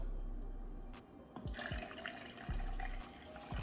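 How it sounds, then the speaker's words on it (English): Warm water pours and splashes from a measuring cup into a container with a continuous gurgling rush, a few small knocks and clinks audible along the way. "I'm gonna pour that in there"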